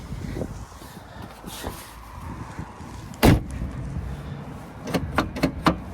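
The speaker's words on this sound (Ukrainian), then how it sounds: "І після цього ми просто закриваємо двері." A Jeep car door slams shut with a single sharp thud, followed by a few lighter clicks and knocks; a quiet background hum runs throughout.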